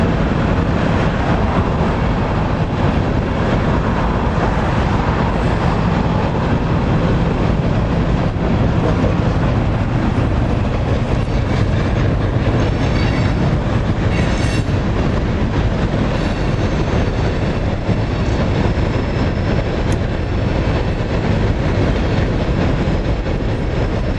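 A long CSX freight train rumbles steadily past close by at a crossing in Canaan, New York, wheels clattering and rails clanking continuously, with faint metallic squeals near the middle.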